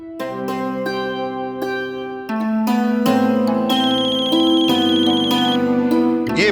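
A mobile phone ringtone plays a bright, looping melody of sustained electronic tones that steps up in loudness partway through, with no voices over it.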